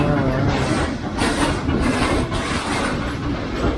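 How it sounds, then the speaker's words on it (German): Trains passing near an outdoor urban spot, a loud continuous rumble and clatter of rail wagons with rhythmic surges, filling the whole clip. "Ah, diese Züge, die belästigen."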